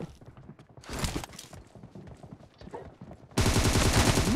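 Rapid bursts of video game gunfire from PUBG team deathmatch, cracking shots in quick volleys that swell into a loud sustained barrage of automatic fire at the end.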